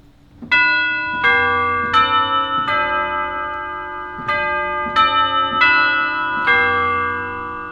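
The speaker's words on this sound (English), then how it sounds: "And quite amusing set of bells." Eight chime-like strikes from the bells stop of the Usher Hall pipe organ ring out in a slow, steady sequence, each with a bright attack and a shimmering decay.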